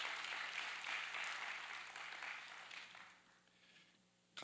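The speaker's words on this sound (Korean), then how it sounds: "나오실 때 우리 수고하셨습니다 하는 마음으로 박수로 환영하도록 하겠습니다." A church congregation applauds to welcome a missionary coming forward to give a mission report, steady dense clapping filling the room for several seconds before fading away, with a small clatter right at the end.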